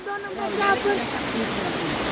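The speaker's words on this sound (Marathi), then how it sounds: "धबधब्याला जात आहे मी" Steady roar of a waterfall, constant rushing water filling the scene, with a voice faintly audible over it.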